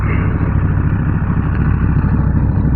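A Triumph Street Triple R 765 three-cylinder engine running steadily, a close, loud, even rumble with a faint clattery edge that holds constant throughout.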